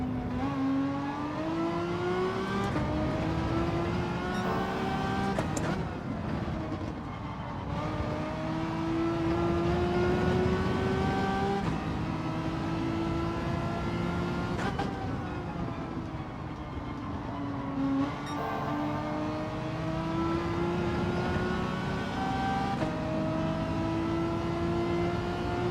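Porsche Cayman race car engine in Gran Turismo 7 at Suzuka, a steady, loud engine drone that climbs in pitch through each gear, with short dips at the shifts, holding near and continuous across the whole stretch.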